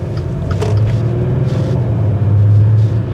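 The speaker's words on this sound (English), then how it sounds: "If we pull away now, it's not the most wonderful sounding of engines." Low, rough V6 diesel engine rumble as a Maserati Ghibli pulls away, building steadily in loudness, heard from inside the vehicle.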